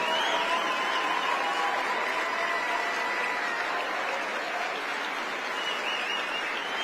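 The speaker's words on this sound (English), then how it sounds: "Give my wife a round of applause." A large crowd at a live TPUSA AmFest event applauds for a speaker's wife, a broad, sustained wash of clapping at moderate distance that slowly eases off.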